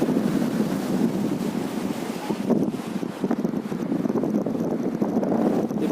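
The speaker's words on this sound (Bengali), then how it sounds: "এখানে এই ব্রিজটা নিচে পানি যাচ্ছে।" Strong water current rushing beneath a bridge near the Naf River at Teknaf, a steady broadband wash with wind buffeting the microphone, continuous and fairly loud throughout with no voices.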